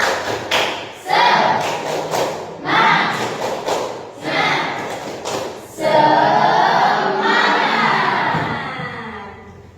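A class of schoolchildren claps out a rhythmic chant in a classroom, bursts of group clapping with pauses between, then a longer sustained stretch of clapping mixed with children's voices near the end.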